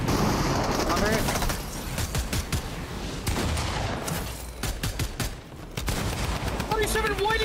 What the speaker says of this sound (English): Oh my god, these shotguns hit for nothing, bro.